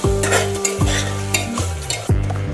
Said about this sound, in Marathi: मसाले छान 1-2 मिनिट परतून घेतलेले आहेत